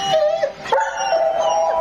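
Dog whimpering as a sound effect in a radio drama, a close, loud series of high, wavering whines and short yips rising and falling over a couple of seconds, with no talking.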